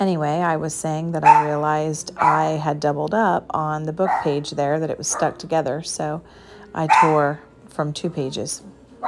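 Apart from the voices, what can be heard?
dog barking at fireworks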